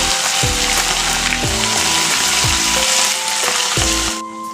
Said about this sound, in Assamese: এইখিনি আদা নহৰু গোন্ধটো যোৱালৈকে অকণমান ভাজিম